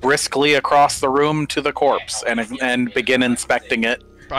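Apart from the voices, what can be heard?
No distinct noise like a dog, phone or traffic.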